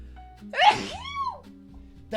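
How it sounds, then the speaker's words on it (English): A single sharp sneeze bursts out close to the microphone, a breathy rush followed by a short voiced tail, set against a quiet room hum. "sneezes"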